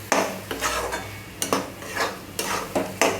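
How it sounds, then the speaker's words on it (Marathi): Spices, tomato and onion for chicken chutney stir-fry in a pan, with a spoon scraping through them in repeated strokes over a steady soft sizzle, close by, with no talking. "1 मिनिटभर फ्राय करून घ्यायचा आहे."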